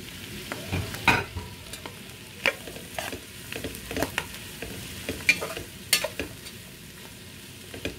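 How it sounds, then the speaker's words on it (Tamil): Capsicum and onion stir-frying in a pan for shrimp noodles, with a low sizzle under irregular sharp scrapes and taps of a spatula, close by with no voices. "இப்போ வெட்டி வச்சிருக்கிற இந்த குடமிளகாய் இலையையும் இதில் போட போகிறோம்."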